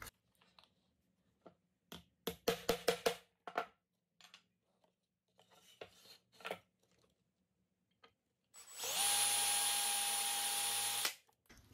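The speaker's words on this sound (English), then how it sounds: "So easy for the drill to speed along off course and start to bum up the rivet." A power drill bores out a rivet on a Victorinox pocket knife, a steady close whine running for about three seconds after a scatter of sharp clicks and taps from handling the knife and tools.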